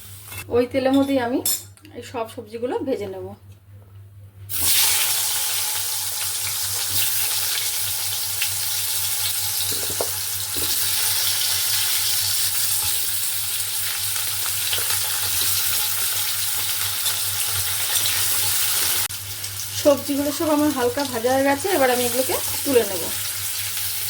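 Loud, steady sizzling of bitter gourd frying in mustard oil fills most of the stretch, with a few utensil clinks; a person talks briefly at the start and end.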